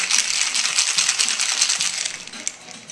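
A cocktail of lime and ice being shaken hard in a shaker. Dense, bright, rapid ice rattling runs nonstop for several seconds, loud and close, with no voices.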